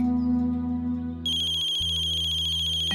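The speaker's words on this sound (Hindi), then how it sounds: "हे भगवान, सोनी के बाबूजी का फोन आ रहा है।" A phone rings with an incoming call, a steady electronic ringtone that plays alone, close and clear, switching to a brighter melodic tone partway through.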